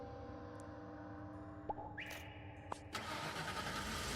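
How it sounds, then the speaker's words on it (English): Bus engine in the video game The Fabulous Fear Machine, a low rumbling idle that swells as the engine revs up near the end, with a few short tonal blips, quiet overall and without any talk. "It's just the sound of the engine"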